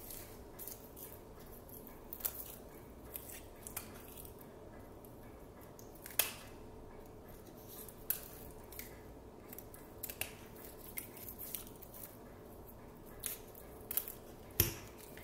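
Roots of a Catasetinae orchid being cut away with scissors for repotting, a series of quiet, crisp snips spaced irregularly against a faint background.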